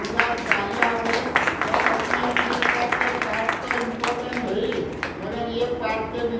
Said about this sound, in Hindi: वो लोगों के लिए भी जरा जोरदार तालियां हो